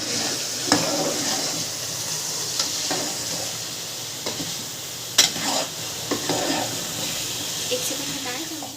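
A pot of chicken stew made with 500 grams of chicken sizzles steadily while a spoon stirs and scrapes, sending sharp clacks and knocks at irregular intervals over the constant bubbling hiss.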